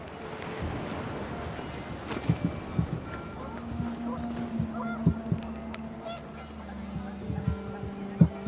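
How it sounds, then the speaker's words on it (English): Panicked geese honk repeatedly over a gusting wind in the video game What Remains of Edith Finch, the calls coming in irregular bursts at moderate distance against a steady background wash. "The wind picked up, and panicked geese appeared and quickly went."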